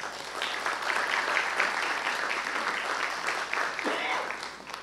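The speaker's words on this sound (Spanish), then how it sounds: "pido un fuerte aplauso para Luis Jiménez" An audience at a lecture on the ethics of artificial intelligence claps steadily, a dense, even round of applause lasting throughout, with a little voice mixed in near the end.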